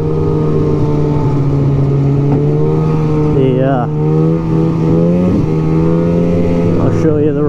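A 1999 Polaris Indy Classic 500 Touring snowmobile engine idles and runs steadily with a low droning hum, pitch rising and falling slightly as it revs, close by and continuous.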